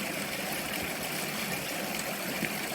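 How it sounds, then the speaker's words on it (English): Fern Branch Falls and its small creek in the Smoky Mountains rush in a continuous broadband wash of falling and flowing water, steady and fairly close, with no voices. "that is Fern Branch Falls"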